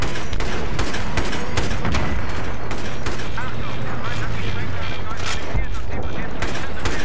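Dense, loud gunfire and explosions in the video game Battlefield 3, played on Teheran Highway in Rush Hardcore mode, with rapid bursts throughout and excited German talk over them.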